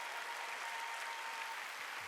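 A church congregation at a Sunday worship service applauding, steady dense clapping from many hands filling the room evenly throughout.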